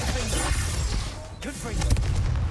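Repulso spell being cast in the video game Hogwarts Legacy, giving a dense, rumbling magical blast with whooshing bursts layered over continuous game background noise, and a brief voice speaking partway through.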